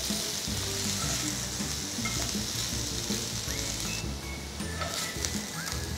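Potato pieces frying in oil in a pan, a continuous dense sizzle and crackle with faint stirring scrapes, close and steady throughout.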